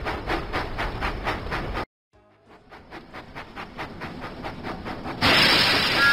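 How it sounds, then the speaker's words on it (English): Thomas the Tank Engine from a video game puffs along in steady, regular chuffs, a brief silence cutting in before the rhythmic steam puffing resumes and swells louder at the end. "Thomas puffed proudly into the diesel works."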